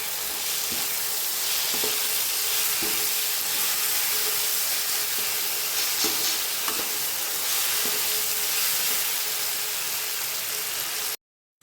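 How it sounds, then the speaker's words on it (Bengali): Rohu fish kalia masala with ginger paste and salt being sautéed in a pan, a loud continuous sizzle and hiss with periodic soft scrapes of stirring, no talking. "দিয়ে দিচ্ছি লবণ এবার এটাকে কষতে থাকবে"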